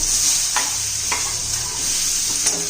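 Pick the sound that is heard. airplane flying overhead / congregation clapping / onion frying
onion frying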